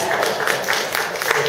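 At a London town hall event, an audience claps in a continuous burst of crowd applause, close and fairly loud.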